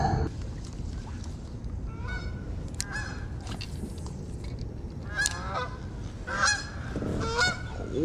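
Waterfowl flying overhead in a V formation give a scattered series of nasal honks, some nearer and louder, others fainter, over a steady outdoor background during a fishing outing.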